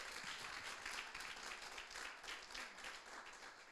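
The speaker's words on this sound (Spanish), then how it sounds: "Hazle un aplauso fuerte al Señor" A church congregation applauds continuously during a sermon, dense clapping at a distance, fairly faint and steady.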